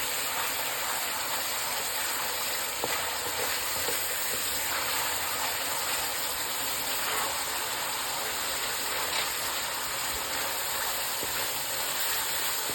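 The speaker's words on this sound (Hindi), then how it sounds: "इसको हम 3-4 मिनट तक भून लेंगे अच्छी तरह से" Chicken, potato and cauliflower frying in a pan, a loud, continuous close-up sizzle that holds steady throughout with faint stirring scrapes and no talking.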